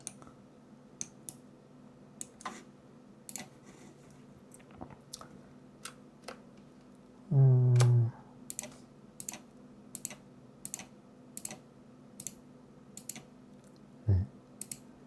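Scattered computer keyboard key presses in a 3D animation class, sparse quiet clicks over a low room hum, with one brief louder low thump partway through.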